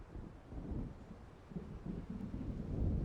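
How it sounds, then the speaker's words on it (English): Low rolling thunder from an approaching storm in a video game, a deep continuous rumble that swells and fades over a few seconds with no voices. "It seems there's a storm coming."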